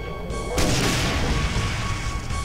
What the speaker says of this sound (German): Und jetzt eine schöne Granate werfen.